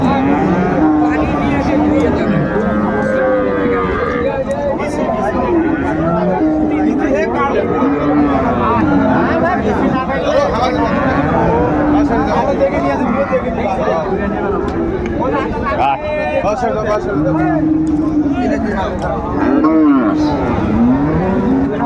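Sahiwal cows and calves mooing repeatedly at a busy rural cattle market in Dinajpur, loud and close, with a crowd's chatter and people talking throughout.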